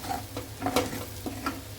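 Prawns frying in a pan, a soft crackling sizzle with a few scattered pops and light stirring taps, close and fairly quiet, no talking.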